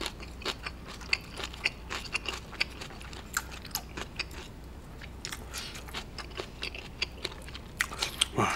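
Close, crisp crunching of fresh, crunchy kimchi being chewed alongside boiled pork, repeated bites in an irregular rhythm, with no talking.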